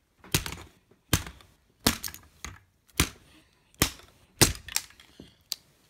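Sharp plastic cracks and snaps from a Lego build being broken apart, about eight distinct close, loud pops spaced irregularly, each with a short rattle of loose bricks after it, no talking.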